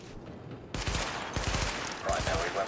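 Gunfire at highlighted targets in a weapon test in The Division: a quiet start, then several sharp bursts of shots in quick succession, close and loud.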